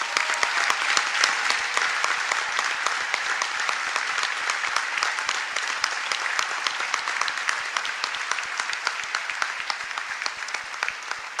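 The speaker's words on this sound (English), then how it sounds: "Please give them a big round of applause" A large dinner crowd at the White House Correspondents Dinner breaks into steady, crackling applause that holds evenly for over ten seconds, with many distinct hand claps and no talk over it.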